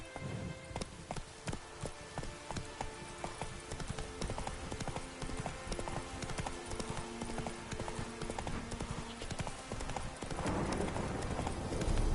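Roach, a horse in The Witcher 3: Wild Hunt, trots with a steady, rapid clip-clop of hooves that runs the whole time, joined near the end by a louder burst of movement.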